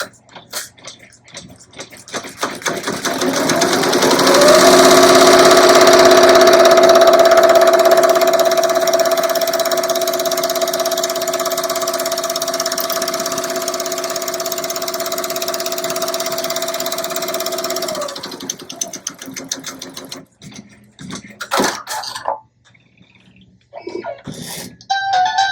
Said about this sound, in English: We're going to hit start, and this is the final stitch.